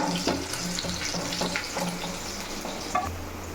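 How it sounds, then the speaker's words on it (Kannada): Curry leaves and green chillies fry in hot oil in a pan for Malenadu chicken sukka, crackling and sizzling up close, with a few sharp utensil clinks and stirring scrapes. "ಇವಾಗ ಹಸಿಮೆಣಸು ಇದೆಲ್ಲ ಒಂಚೂರು ಚೆನ್ನಾಗಿ ಫ್ರೈ ಆಗಲಿ."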